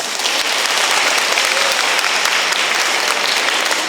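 Sustained applause from an audience after a Buddhist monk's dharma talk, dense steady clapping filling the room for about four seconds without a break.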